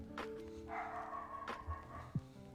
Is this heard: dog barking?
yes